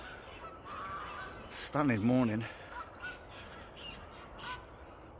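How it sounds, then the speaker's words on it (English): A goose on a misty lake honks loudly at about 4:30 in the morning, one short burst of repeated calls. Someone speaks quietly before and after it. "All the geese are up."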